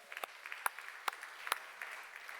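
A church congregation clapping during a Korean sermon, a steady patter of many hands with a few sharper claps standing out, moderately distant and fairly soft, with no voices over it.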